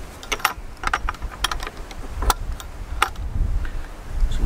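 A bolt slides and a key catch rattles on a wooden chicken coop door, making a run of sharp metallic clicks and clacks at irregular intervals, close up with no speech.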